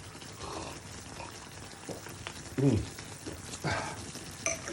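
Apples cooking and caramelizing in a pan for tarte tatin: a soft, quiet sizzle with a few brief clatters and light scraping sounds over a short stretch.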